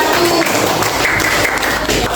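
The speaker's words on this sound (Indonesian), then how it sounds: "tepuk tangan untuk kelompok 1" A classroom crowd claps in dense, steady applause for a couple of seconds, loud and close, with a faint voice mixed in.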